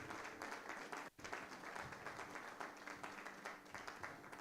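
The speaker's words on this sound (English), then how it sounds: "Give her another round of applause." Audience applause at a memorial service, a steady faint wash of many hands clapping with a brief dip partway through.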